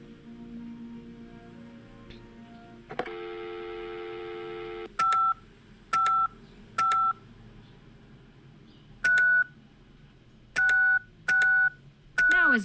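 Touch-tone phone dialing in the video game Penelope Pendrick and the Art of Deceit: a long steady dial tone, then seven short DTMF key beeps in an uneven rhythm, clear and close.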